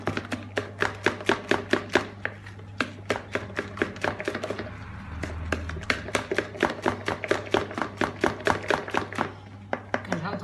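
Lemon cake batter whisked by hand in a bowl, a fast steady train of close, crisp taps from the whisk striking the bowl, continuous and alone without talk.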